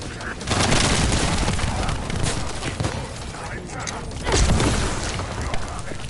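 Rapid continuous gunfire from a weapon cutting through shielded enemies in The First Descendant, dense and loud with booming impacts and mechanical clatter, while someone talks over it.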